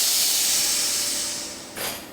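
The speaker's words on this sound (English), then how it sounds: "I see a few more spots where my red spray paint missed." A can of red spray paint hisses in a strong continuous burst that gradually fades, then a second short spurt follows, close up and alone.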